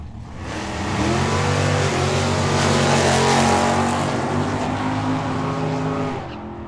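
Drag race at Tucson Dragway between a 1972 Chevy Vega with a 377 cubic inch small block and a 1967 Chevelle, two engines roaring loud and steady as they launch and run down the strip, fading at the end.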